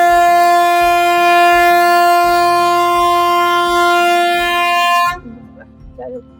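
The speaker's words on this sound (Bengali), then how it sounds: "হর্ন দিচ্ছিল" A train horn blasts loud and close in one long sustained tone, with a rhythmic rumble of the train running beneath it before the horn cuts off abruptly and quieter background sounds follow.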